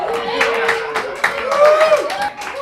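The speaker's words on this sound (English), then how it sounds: "What are you cheering at?" An indoor audience at a talk claps in a quick, uneven patter of sharp hand strikes with scattered cheering mixed in. The sound is moderately loud and close.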